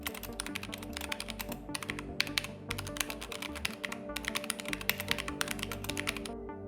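Rapid, steady typing of an SQL query on a computer keyboard, a dense run of key taps with short pauses, close and clear, accompanied by a constant low hum.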